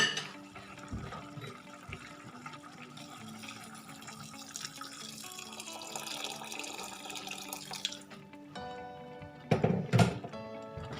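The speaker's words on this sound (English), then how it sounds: "might need a bit more water in there, Lorene." Water pours from a tap into a pot for macaroni and cheese, a steady running fill lasting several seconds before a few louder splashes near the end, with no talk over it.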